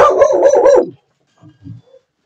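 Several dogs barking close by in a quick burst of loud overlapping barks for under a second, followed by silence and a few faint soft whimpers or yips.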